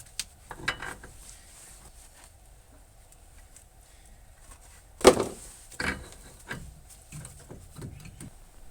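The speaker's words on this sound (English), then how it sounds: "Putting the bolts back in the knuckle." Bolts are fitted back into the steering knuckle of a Saturn Relay during hub assembly work, heard as quiet metallic clicks and a couple of sharper clanks in an otherwise hushed garage.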